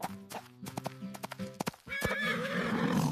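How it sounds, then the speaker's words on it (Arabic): A horse's hooves clip-clop in an uneven patter, followed by a loud, drawn-out whinny close by. "نق نق. هذا حصان."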